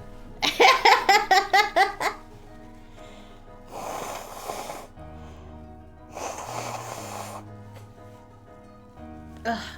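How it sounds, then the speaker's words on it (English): A person blows their nose into a tissue twice, each a rough, breathy honk of about a second, after an opening run of rhythmic laughter. "I'll let you listen to me blow my nose."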